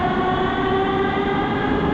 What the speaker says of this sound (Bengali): সোফিয়ার কেন্দ্রীয় অঞ্চল ছেড়ে এবার মেট্রো করে রওনা হচ্ছি শহরের উপকণ্ঠ বোয়ানার দিকে